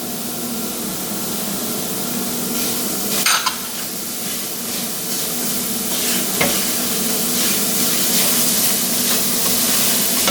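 Onions frying in a pan for savory Indian-style oats, with a loud, dense, continuous sizzle close by and occasional stirring scrapes.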